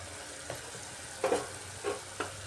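A spice masala of turmeric, coriander, cumin and red chili powder with salt is sautéed in a pan over medium heat, giving a soft steady sizzle broken by a few scraping stirs of the spatula.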